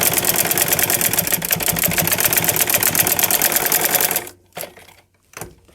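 Sewing machine stitching fabric for a flower latkan, a fast, steady, close mechanical rattle for about four seconds, then stopping, followed by a couple of short handling bumps.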